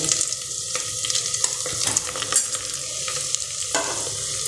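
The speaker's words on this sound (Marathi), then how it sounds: "या मसाल्याला एक दोन मिनिट परतून घेऊयात" Onion with curry leaves and masala sautéing in a pan, a steady close sizzle with repeated stirring scrapes throughout, no talking.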